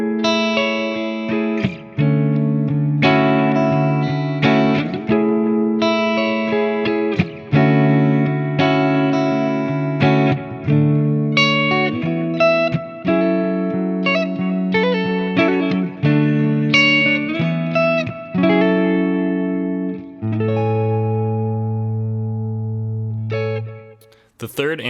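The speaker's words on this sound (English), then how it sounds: "So I have a ping pong delay set up, and the amp is going to be actually the Bogner Shiva clean." Clean electric guitar, a Mayones Regius 7 seven-string with Bare Knuckle Silo pickups through a Bogner Shiva clean amp, playing sustained chords and melodic notes, with ping-pong delay echoes bouncing back and forth, light chorus shimmer and reverb, continuous throughout.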